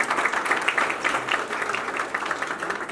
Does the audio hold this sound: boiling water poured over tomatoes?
no